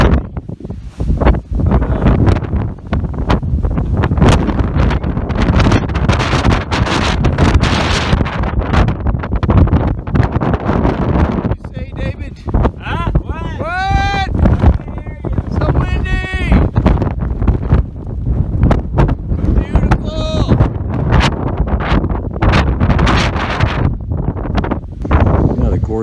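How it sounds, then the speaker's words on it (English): Strong wind buffets the microphone in heavy, roaring gusts throughout on the summit of Webster Mountain, with voices talking briefly partway through. "It's very windy."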